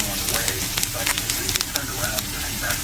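Broccoli stir-frying with beef in a pan for beef broccoli with oyster sauce, a steady close sizzle with frequent crackles and pops, while a person talks over the cooking.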